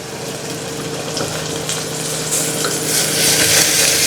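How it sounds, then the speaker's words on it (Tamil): Ginger garlic paste and tomatoes sautéing in a pan for a squid gravy, giving a steady close sizzle and frying hiss that grows slightly louder toward the end, with no talking. "இஞ்சி பூண்டு பேஸ்ட் போட்டு நல்லா வதக்கியாச்சு தக்காளியை போட்டுடலாம்"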